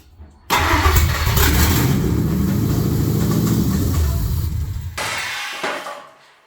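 Ford SVT Lightning pickup truck engine cranking and firing up in a garage, then revving loudly and steadily for several seconds before cutting off, followed by a few quieter mechanical knocks.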